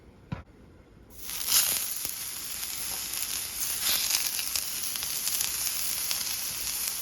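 Gary's Quick Steak sirloin beef hits a heated, lightly oiled flat top with a sudden loud sizzle that starts after a brief quiet moment and a small knock, then holds as a steady, close, crackling hiss.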